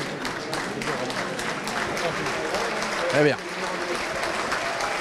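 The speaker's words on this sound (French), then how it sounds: "Allez, applaudis là les copains." A crowd applauds the players at a friendly rugby match between Biarritz Olympique and US Dax, with steady clapping running under a commentator's talk.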